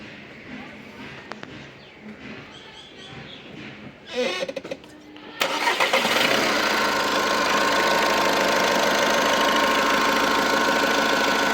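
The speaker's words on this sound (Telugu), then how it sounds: "ఒకసారి బండి స్టార్ట్ చేస్తాను చూడండి" Quiet rustling, then a Volkswagen Polo Highline's engine cranks and catches, settling into a loud, steady idle that runs on to the end.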